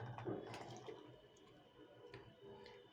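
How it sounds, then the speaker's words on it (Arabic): Milk poured into a glass makes a faint, soft splashing and trickling close by, with a few small drips, quiet and alone. "هنحط فيها نص كوبايه لبن او ميه اللي تحبيه"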